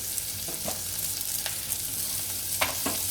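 Boiled black chickpeas frying with a couple of pinches of asafoetida on low heat for kala chana kadhi, a continuous dense close sizzle with a few sharp stirring clicks and taps.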